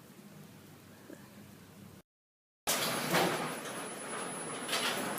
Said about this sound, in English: That's how slow our garage door is.